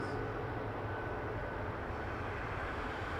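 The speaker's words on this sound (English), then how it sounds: "we're going to be grabbing Air Canada 33 to Vancouver, 777-200 LR, right after this rotation" An Air Canada Boeing 777-200LR taking off at Toronto Pearson, a steady broad jet roar heard from a distance, even and continuous throughout.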